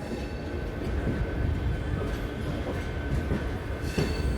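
A train at platform 2 of Tirupati railway station rumbles steadily on the tracks, a loud low continuous rolling with faint wheel clatter throughout.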